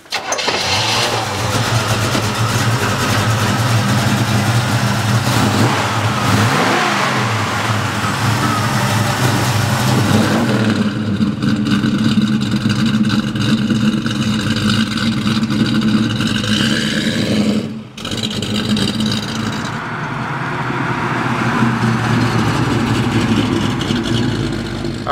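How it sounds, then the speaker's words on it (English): A 1939 Ford street rod's engine cranks and catches, then settles into a loud, steady idle with a brief dip and a slight rise in revs, heard close and alone. "let's take this 39 Ford for a ride"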